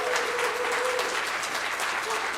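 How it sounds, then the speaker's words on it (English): A church audience gives a loud sustained round of applause, many hands clapping steadily and close, with a faint voice briefly audible beneath the clapping. "would you all give this man a huge round of applause?"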